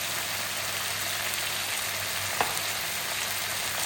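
Chicken thighs seasoned with salt and mixed pepper fry over high heat in a pan, a steady broadband sizzle holding evenly throughout with one brief sharp tick midway and a low hum beneath.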